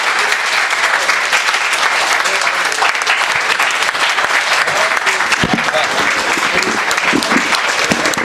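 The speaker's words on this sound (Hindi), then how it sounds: "पुरजोर तालियों से इस्तकबाल करें" Dense, continuous audience applause at a mushaira poetry gathering in Pune, loud and steady throughout, welcoming a poet to the stage.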